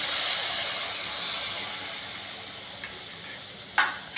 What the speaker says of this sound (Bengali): এমনি করে সমস্ত মালপোয়ার ব্যাটারটা একটা একটা করে চামচের দ্বারা ভেজে নেব।